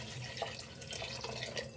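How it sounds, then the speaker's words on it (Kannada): Water pours into dal (lentils) in a pressure cooker, about one to two glasses' worth. It makes a faint, steady splashing trickle with a few soft drips, heard alone and quietly. "1-2 ಗ್ಲಾಸ್ ಆಗೋಷ್ಟು ನೀರು ಹಾಕ್ಕೊಳ್ಳೋಣ"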